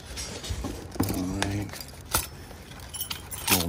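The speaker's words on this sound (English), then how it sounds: "Keys." A bunch of keys found in an abandoned storage unit jangles and clinks in bright metallic bursts, handled close by with quiet rustling between shakes.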